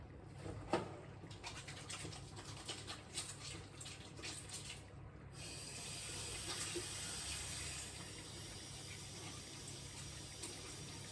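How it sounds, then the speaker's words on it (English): Water runs from a kitchen tap while hands are washed beneath it, a steady hiss with splashes and clatter in the first half, then a smoother continuous flow. "wash my hands first."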